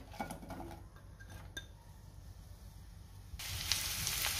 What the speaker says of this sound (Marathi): आता आपल्याला कांदा भाजून घ्यायचा आहे